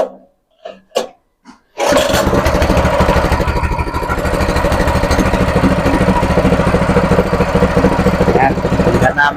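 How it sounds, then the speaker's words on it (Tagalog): After a few brief voices, a small gasoline water pump engine, stored for six months, sputters to life and settles into a loud, steady, close running drone for the rest of the clip. "Mandar na yung makina mga kanags."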